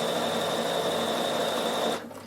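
A Bernina sewing machine stitches an automatic buttonhole, giving a steady, close whirring hum with a constant high whine that runs evenly and then stops abruptly near the end.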